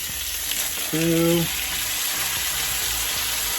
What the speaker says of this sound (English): See how it bubbles and sizzles like that?